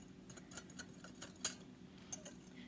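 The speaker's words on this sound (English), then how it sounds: "we're just gonna take our whisk and we're just gonna whisk this all together" A whisk beats pancake batter in a bowl, making faint, quick metallic ticks and clinks in an irregular rhythm, close but quiet.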